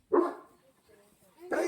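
A large dog at Sanyang Keunkot on Jeju barks twice, a sharp close bark at the start and another at the end, with a faint whimpering sound between them.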